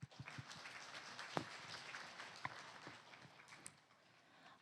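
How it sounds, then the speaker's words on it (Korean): Audience clapping at an agricultural food export support briefing session in Korea, a steady, moderately quiet wash of many hands applauding for several seconds, with a few sharper claps standing out, no talk. "차장님께 여러분 박수 부탁드립니다."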